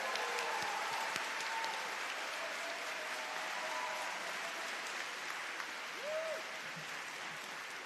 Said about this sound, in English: please join me in the round of applause for your loved ones in the audience today